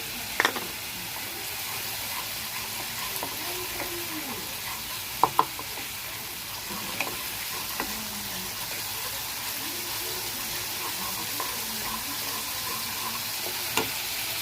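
Ginger stirred and fried in a pan for a rui fish curry, soft background sizzle under scraping spoon strokes and a few sharp clinks, no voices.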